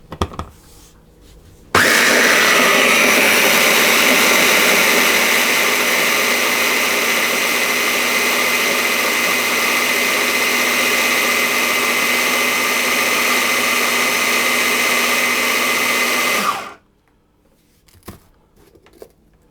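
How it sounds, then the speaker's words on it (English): A food blender blitzes hazelnuts and icing sugar into powder: a loud, steady whirring roar close by that starts abruptly, holds for about fifteen seconds, then cuts off. "And I'm going to blitz those until they're a finer powder."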